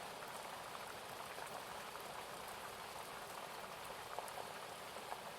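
Gentle, continuous rain patters softly and evenly, a quiet steady wash of drops with a few slightly louder taps, heard alone without any voices.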